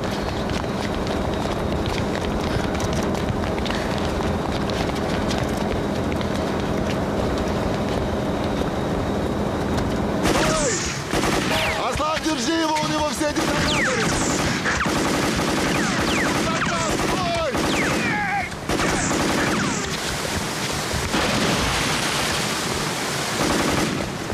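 Automatic rifles fire in a film shootout, with long fast bursts of gunfire over a dense, noisy action soundtrack. Running footsteps and movement sound throughout, and the shooting grows sharper and more layered partway through.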